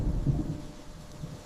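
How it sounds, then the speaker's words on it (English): Deep thunder rumbles low and continuous over an African river landscape before the floods, with a soft hiss of rain beneath it and no voices. "Thunder answers the earth's long silence."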